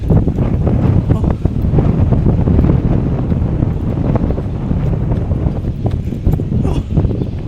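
Strong wind buffeting the microphone with a loud, continuous roar and rumble, gusting steadily throughout.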